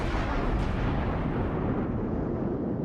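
Naval gunfire striking an armored warship in a video game, heard as dense, continuous explosive rumble and blasts filling the scene without speech.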